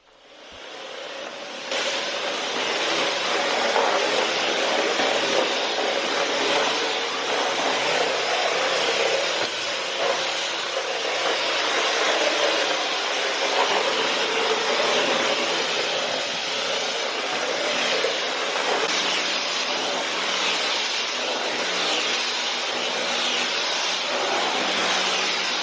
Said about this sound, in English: So I do vacuum all the floors in the house during this task